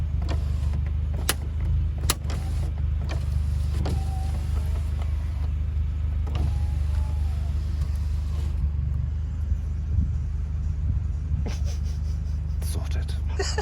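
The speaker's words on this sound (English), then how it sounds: "do your window up." Electric window closing on a Honda Civic FN2 Type R fitted with a ClimAir wind deflector: a steady motor whir over the car's low interior rumble, with scattered clicks and faint background voices.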